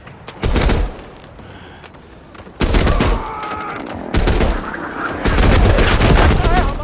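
A Lewis gun fired from the shoulder, loud bursts of rapid automatic gunfire in several separate strings with short pauses between them, close and sharp.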